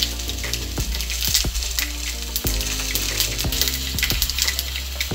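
Fennel and cumin seeds splutter in hot oil for a South Indian hotel-style ladies finger sambar, a dense crackling sizzle dotted with sharp pops over a low steady hum.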